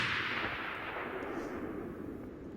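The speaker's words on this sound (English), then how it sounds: "Okay, next up is the sound of this firework going off." A firework sample used as a sound effect goes off as a dense, heavy rumbling roar with a crackling hiss. It sounds loudest at the start and slowly fades over a couple of seconds.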